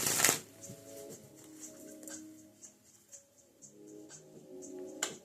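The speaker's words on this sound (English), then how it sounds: "One more shuffle, and then I'm going to go to a different deck." A deck of tarot cards is shuffled by hand, opening with a sharp riffling burst and followed by softer rustling and sliding, with brief crisp riffles returning near the end.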